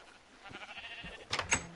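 Sheep bleating in the Minecraft video game, two short bleats close together near the end over a low background.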